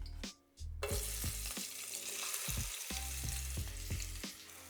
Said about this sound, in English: Some clarified butter or ghee. Add 1 red onion.